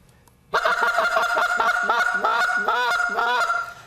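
A handheld goose call imitates an excited flock of Canada geese, producing a rapid run of loud, close honks and clucks that continues steadily for several seconds without a pause.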